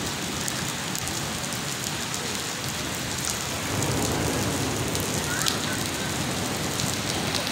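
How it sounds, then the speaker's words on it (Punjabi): Heavy rain pours steadily in a village in Azad Kashmir. The downpour makes a dense, continuous hiss that grows a little louder partway through, with no voices over it. "ਦੋਸਤੋ ਤੱਕੋ ਬਾਰਿਸ਼ ਬਹੁਤ ਤੇਜ਼ ਹੋ ਰਹੀ ਹੈ, ਅੱਲਾਹ ਦੀ ਰਹਿਮਤ ਬਰਸ ਰਹੀ ਹੈ।"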